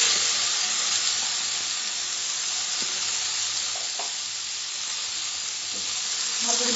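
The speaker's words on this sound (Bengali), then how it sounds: "এবার আমি এর মধ্যে স্লাইস করা টমেটোটা দিয়ে দিচ্ছি" Sliced tomato goes into a pan of frying boiled-egg masala for an Andhra-style egg fry. A continuous close hiss and sizzle holds at an even level, with a few soft clicks and a small swell at the end.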